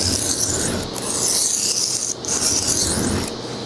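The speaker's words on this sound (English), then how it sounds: "they'll kind of sharpen the whole blade." A knife blade being sharpened on a whetstone, with steady rasping strokes rubbing back and forth and a few brief pauses between passes, close and clear with no talk.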